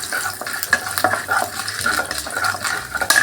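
Mustard seeds, cumin, curry leaves and dal frying in oil for aval upma: a steady close crackle and sizzle with scattered sharp pops and occasional spoon scrapes against the pan.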